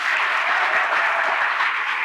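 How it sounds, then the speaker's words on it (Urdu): Dense, vigorous clapping from a seminar audience cheering for children, a steady close wash of many hands without a break. "ایک بار تالیاں زوردار بچوں کے لیے ہمارے"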